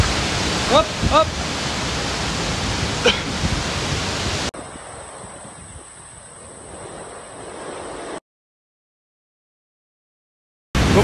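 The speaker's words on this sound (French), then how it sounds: "C'est une cascade et on peut passer en dessous." Skógafoss waterfall in Iceland roars as a loud, steady broadband wash close by, with wind buffeting the microphone, then quieter spray noise before a brief silence and the roar returns.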